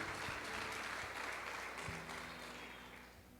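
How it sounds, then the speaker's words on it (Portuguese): A church congregation applauding during a service, steady close clapping that slowly fades toward the end. "Aplauda o Senhor Jesus"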